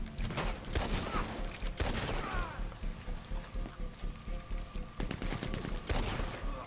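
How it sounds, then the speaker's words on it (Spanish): Machine gun fire in the online western game Red Dead Online, with rapid bursts of shots crackling in clusters and pausing between them, mixed with game ambience and occasional faint voices. "cuidado con el de la ametralladora"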